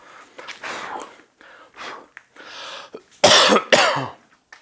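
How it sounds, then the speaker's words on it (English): Several harsh coughs and throat-clearing bursts close to the mic, spaced irregularly, with the loudest pair of hacking coughs near the end. "I apologize for all the coughing."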